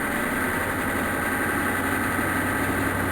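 A 1999 GMC Sierra 3500 diesel engine idles steadily just after a cold start, a loud, continuous rumble with a constant mechanical drone and no talking.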